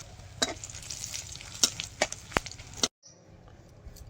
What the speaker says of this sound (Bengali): মাছ ভাজা তেলের মধ্যে শুকনো লঙ্কা ফোড়ন দেবো